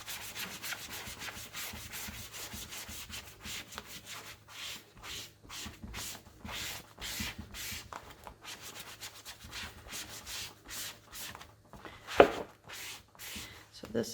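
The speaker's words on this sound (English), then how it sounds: "we're going to try and rub this" A Cricut cutting mat is rubbed clean by hand in repeated back-and-forth strokes, a dry scuffing rhythm with brief pauses and one sharper knock near the end.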